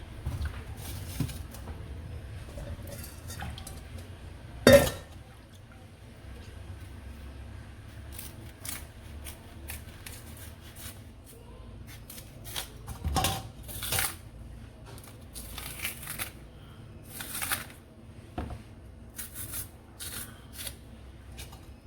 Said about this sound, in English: I'm just going to remove the skins and peel the plantains.